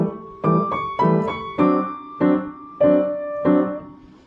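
Piano played with both hands through a passage from Beethoven's Rage Over a Lost Penny, with seven evenly spaced chordal notes landing at a steady moderate pace, each decaying before the next.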